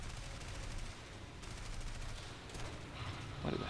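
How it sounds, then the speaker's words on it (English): Gunfire rattles against the player's plane in War Thunder, a faint, continuous patter of rapid machine-gun hits under a steady engine drone, with a few louder bursts near the end. "I'm still being shot up."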